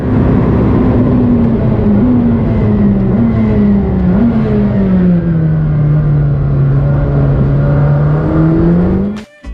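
A McLaren Senna engine revs loud and close, its pitch climbing and dropping through several ignition-cut gear shifts that crack in sharply, then cuts off abruptly at the end.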